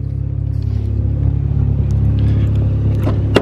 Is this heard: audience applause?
no